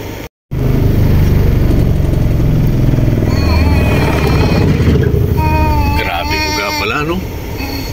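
At an emission testing center in Iloilo, a vehicle engine runs loud and steady close by, rough and droning throughout, with a short break near the start and a voice speaking over it.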